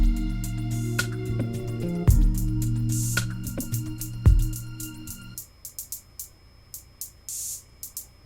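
Drums from an instrumental track with crisp hi-hat hits over kick and bass, a steady groove that drops away midway, leaving sparse hi-hat and cymbal ticks alone.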